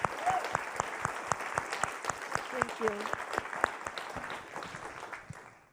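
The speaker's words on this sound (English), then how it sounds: "Can we applaud first?" Steady applause from a lecture audience after a talk, many hands clapping continuously before fading out, with a brief spoken thanks partway through.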